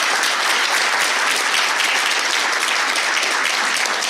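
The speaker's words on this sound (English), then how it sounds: "I'd like everybody to give these guys a big round of applause." Dense, steady applause from an audience thanking a panel at an ISS Leadership Series yachting event, loud and continuous throughout with no breaks.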